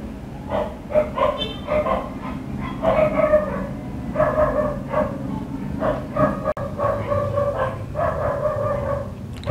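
Dogs bark repeatedly indoors during an acrylic painting session, a run of sharp, fairly close barks in irregular bursts with some yips, loud over a quiet room.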